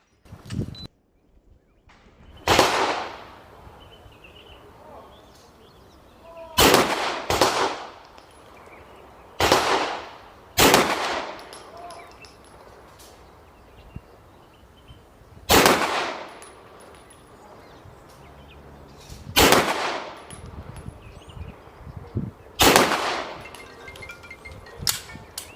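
A Canik TP9 pistol fires on an outdoor range during a speed drill at two targets from 10 yards, loud sharp shots with echoing tails, some in quick pairs, separated by pauses of several seconds.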